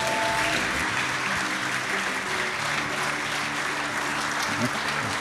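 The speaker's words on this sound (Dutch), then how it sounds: "geef ze een heel groot applaus" A crowd at a Brabant gathering in Eersel gives a big round of applause as the laureates enter, loud continuous clapping with music and voices mixed beneath it.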